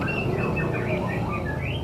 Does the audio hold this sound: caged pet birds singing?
yes